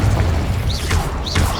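Incendio and Confringo spell blasts in Hogwarts Legacy, loud booming bursts with whooshing rises layered over a dense rumbling game backdrop.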